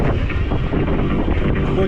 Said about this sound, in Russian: Ветер такой, блин,